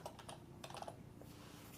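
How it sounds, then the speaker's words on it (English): A short burst of typing on a computer keyboard, quick close key taps clustered at the start and again midway, faint and alone. "If I start typing"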